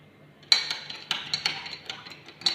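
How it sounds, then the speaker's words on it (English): A spoon clinks repeatedly against the inside of a glass of water in quick, irregular taps while stirring in sugar, close and crisp, with no talking. "And now I will be dissolving this sugar."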